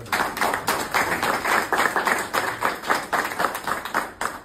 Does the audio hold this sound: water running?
no